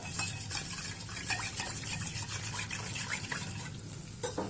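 Lemon juice for lemon rice (nimmakaya pulihora) being stirred in a bowl, a steady soft swishing and liquid clinking throughout, faint and close with a low background hum.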